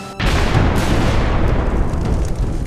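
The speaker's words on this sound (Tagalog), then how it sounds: "may sumabog ng malakas" A sudden loud explosion bursts out and leaves a heavy, roaring rumble that fills the air for a couple of seconds.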